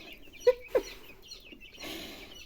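Two short clucks from chicks, close together, one after another, then quiet rustling and a soft shuffling noise near the end.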